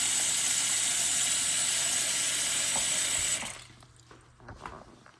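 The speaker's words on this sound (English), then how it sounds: "Put some water in there." Water from a tap runs steadily into a plugged kitchen sink drain fitted with a garbage disposal flange, a loud close hiss that stops abruptly after three seconds, leaving faint drips and handling clicks.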